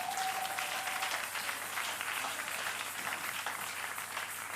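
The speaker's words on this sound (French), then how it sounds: "on applaudit le Seigneur" Church congregation at a French-language service clapping together, dense sustained applause filling the room at moderate volume, with a brief tone at the start.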